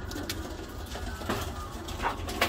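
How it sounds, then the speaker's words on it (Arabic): Soft, low cooing of a Smolder Harry racing pigeon runs steadily through the clip over a busy background of rustling and faint chirps nearby. "2019 من حمام السمولدر هاري."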